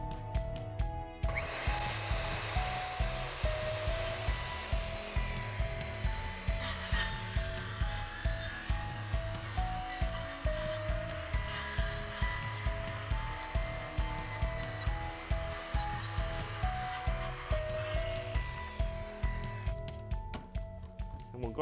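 A 7-1/4 inch Infinity Tools Hurricane circular saw blade cuts through a 2x4 full of driven nails, making a loud, sustained motor whine with regular rhythmic pulses as the blade chews through wood and metal.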